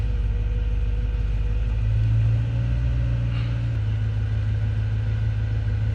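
A BMW E92 M3 sits idling, its engine and exhaust giving a steady, low, moderately loud rumble with a slight dip in pitch partway through, close by with no talking.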